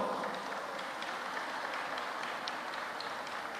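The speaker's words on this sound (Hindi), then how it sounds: "एक बार इन सब बच्चों को ताली बजाकर धन्यवाद दो।" A crowd at a religious discourse gathering in Bageshwar Dham claps to thank the children, forming a steady, dense wash of applause that holds at an even level throughout.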